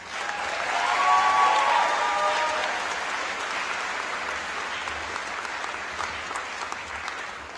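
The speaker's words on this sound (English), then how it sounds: "Would you please give a round of applause to the one and only Senora of LHS, Ann March." Audience applause at a high school graduation ceremony, steady clapping from a large crowd that swells early, then holds at a moderate level with a faint tone briefly sounding underneath.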